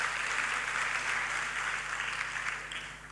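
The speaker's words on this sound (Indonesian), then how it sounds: "Ya mau tepuk tangan mungkin ini satu saudara." Congregation at a prayer fellowship meeting applauds in a continuous, even wash of clapping heard from a distance over a steady low hum, tapering slightly at the end.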